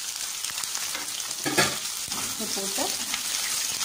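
Chopped onions and green chillies sauté in oil in a pan for chicken salna, giving a steady, crackling sizzle with stirring scrapes, and a voice speaks briefly over it.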